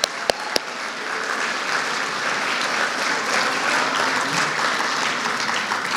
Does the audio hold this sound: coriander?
no